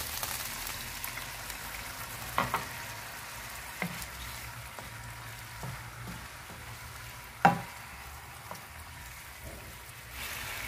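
Small sausage pieces frying in a pan and splashed with dry white wine, a steady close sizzle broken by a few sharp stirring knocks and spatters.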